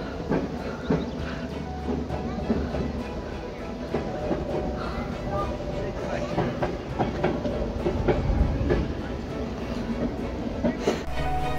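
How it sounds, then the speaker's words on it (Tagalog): A train rolls slowly across the Lethbridge Viaduct, a long steel trestle bridge high above a valley, giving a steady rumbling drone with faint rhythmic clanks of wagons that builds slightly toward the end. "There's something really dramatic about seeing a train slowly crossing the thin line in the sky."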